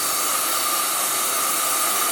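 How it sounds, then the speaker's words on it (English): A Bondi Boost blow dryer runs on hair with a steady, loud, breathy roar and hiss that holds unchanged for the whole stretch, with no voices. "And then Bondi Boost Blow Dryer."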